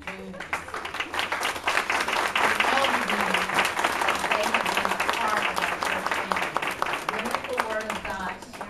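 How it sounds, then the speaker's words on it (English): A church congregation claps at a farewell celebration for a missionary couple, a full, steady roar of many hands that swells in the middle and stays strong for several seconds before easing slightly, with a few voices mixed in. "we need to just clap and celebrate the lives of Missionary Dooms"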